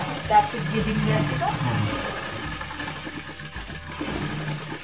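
A sewing machine hums steadily while stitching a blouse, with a continuous mechanical whir close by and a person talking over it.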